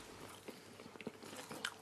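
Someone bites into a cooked Amanda potato during a taste test, producing a few soft, close, crisp crunches and chewing sounds at low volume, with no talking.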